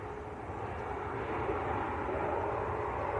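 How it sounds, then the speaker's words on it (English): An EgyptAir Boeing 787 Dreamliner airliner at Manchester Airport gives a steady, distant jet roar that swells slightly and holds at a constant rumble with no voices over it. "Here comes the EgyptAir Dreamliner."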